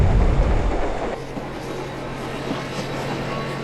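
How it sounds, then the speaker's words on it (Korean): A Saemaul diesel passenger train running between Seoul and Busan rumbles past loudly, broadband rolling noise fading slightly after the first second, with a steady low engine hum and faint clickety-clack of wheels on rail. "서울과 부산을 왕복하는 새마을 열차"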